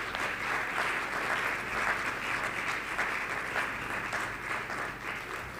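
Steady applause from an audience at the TotalEnergies Startupper awards ceremony in Nigeria, a dense wash of many hands clapping continuously at even loudness, fairly distant and roomy.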